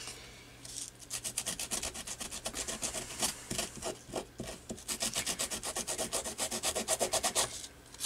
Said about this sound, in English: I'm going to rough up these edges with just a, you know, really heavy grit sandpaper